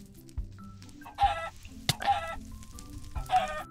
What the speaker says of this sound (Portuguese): Essas galinhas do mal, essas galinhas